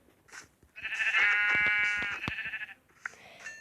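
A single long, wavering Minecraft sheep bleat rings out clearly, followed by a couple of brief fainter cries.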